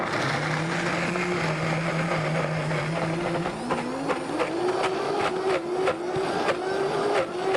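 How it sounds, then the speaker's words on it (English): Kitchen blender whirring hard through thick vegan cheese ingredients, a steady loud motor hum whose pitch climbs in steps midway as the load eases, with faint rattling knocks throughout. "I would recommend just go ahead and throw it right in the blender like the recipe says"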